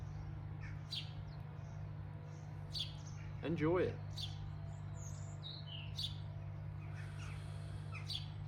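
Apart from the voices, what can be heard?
birds chirping outdoors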